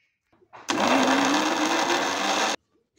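A mixer grinder jar blends fried tomato, green chilli, garlic and salt in one loud, steady whirring burst of about two seconds that starts abruptly and cuts off sharply.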